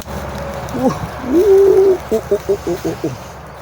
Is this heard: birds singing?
yes